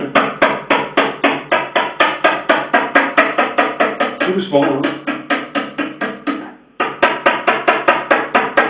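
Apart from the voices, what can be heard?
hammer tapping a pin on a washing machine door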